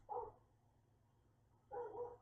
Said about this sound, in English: There is a dog barking outside.